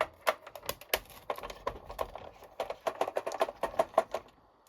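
PlayStation 1 console held by large screws being worked loose by hand, giving a dense run of small close clicks, taps and plastic rattles of uneven rhythm, fairly quiet, with no talking.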